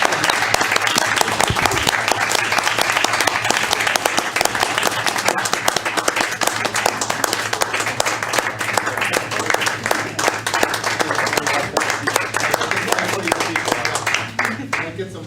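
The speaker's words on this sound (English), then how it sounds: "Once again, let's go round of applause." A sustained round of applause at a school board of education meeting, dense clapping from many hands at close range for about fourteen seconds, tapering off at the end, with voices mixed in underneath.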